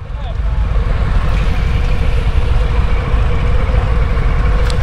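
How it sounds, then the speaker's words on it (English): A motor vehicle engine drones continuously and loudly, close by, with wind noise throughout. It is likely the 2023 Harley-Davidson Fat Bob, though a distinct pass-by is not evident. "That's Mike riding the 2023 Fat Bob."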